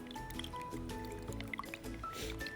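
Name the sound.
mixing a craft solution with a splash of water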